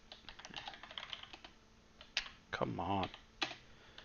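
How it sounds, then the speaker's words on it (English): Rapid typing on a computer keyboard, a dense run of clicks and clacks, with a person speaking briefly partway through and the keys carrying on afterward. "typing too fast"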